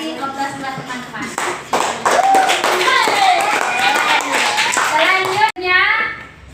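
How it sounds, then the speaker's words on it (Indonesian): A children's class applauding together, a dense burst of clapping mixed with kids' voices and chatter throughout, briefly cut then resuming near the end. "kita kasih aplaus buat teman-teman"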